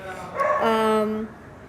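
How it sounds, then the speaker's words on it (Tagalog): A dog gives a short whining, yelping bark with a rising then falling tone, heard briefly and fairly close over faint room noise. "ang ingay ng aso"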